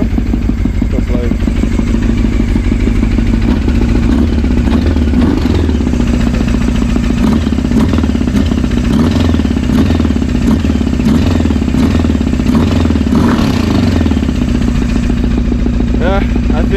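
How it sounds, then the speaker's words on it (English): A motorcycle engine running rough with a suspected bad cylinder or dropped valve, a loud, close, uneven chugging idle with irregular clattering pulses throughout. "I think maybe I have a bad cylinder. Maybe I dropped the valve."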